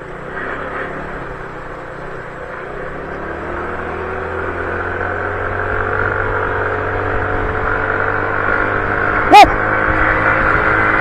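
A motorcycle engine at about a quarter throttle drones steadily and slowly rises in pitch as it gathers speed, with one sharp click near the end.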